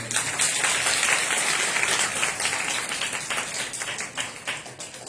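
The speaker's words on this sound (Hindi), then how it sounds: "आइए यीशु के नाम को फिर से चला जोरदार ताली" A church congregation bursts into loud, lively applause, dense clapping that stays strong and then thins slightly toward the end.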